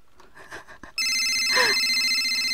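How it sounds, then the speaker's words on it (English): A telephone in the horror video game Abandoned starts ringing abruptly and keeps up a loud, steady electronic trill, following a few quiet footsteps and soft room sounds. "What the hell is that friggin' phone?"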